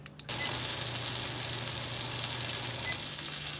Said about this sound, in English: now we can hear that sizzling away